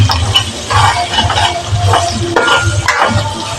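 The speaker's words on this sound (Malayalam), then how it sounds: "ഇഞ്ചി ഇട്ട് കഴിഞ്ഞാൽ നമ്മൾ ഇളക്കിക്കൊണ്ടിരിക്കണം അല്ലെങ്കിൽ അത് അടി പിടിക്കാൻ സാധ്യത" Ginger fries in a pan for chicken perattu and is stirred in a loose rhythm, each sweep making a scraping rush over a low, steady sizzle.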